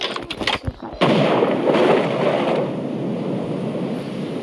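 A few sharp cracks ring out, then a loud, heavy burst that rumbles and slowly fades, like close gunfire with a long echoing tail, from a video game.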